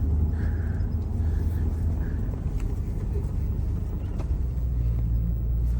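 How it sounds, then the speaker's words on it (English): A 2008 Ford F-350 engine with a persistent exhaust manifold leak, heard from inside the cab as a steady, loud low rumble that drones on without a break. "we definitely have a persistent manifold noise"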